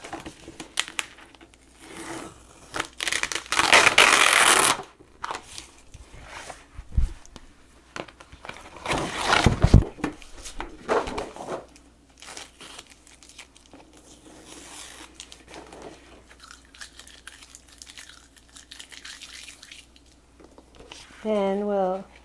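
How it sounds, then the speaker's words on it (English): Cut vinyl stencil sheet is pulled off an adhesive cutting mat in several bursts of crinkling, crackling peeling, with quieter handling noises between and a person talking. "So now I can take it off my cutting mat."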